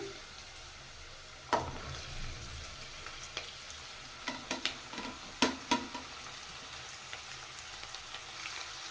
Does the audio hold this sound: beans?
yes